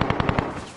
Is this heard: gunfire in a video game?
yes